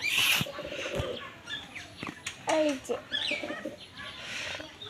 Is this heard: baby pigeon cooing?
yes